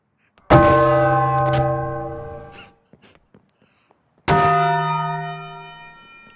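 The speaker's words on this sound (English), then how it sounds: "It does the Taco Bell sound effect" A bright bell-like chime in Boneworks, the Taco Bell jingle effect, rings out twice: a loud struck tone with long ringing overtones that fades, a few small clicks, then a second identical strike.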